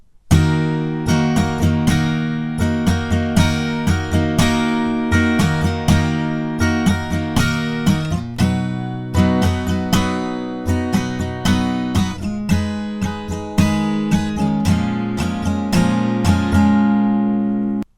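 Steady guitar strumming of the verse chords of a song in an easier version, using a down-down-up pattern, rhythmic chord strokes played loud and close with no voices.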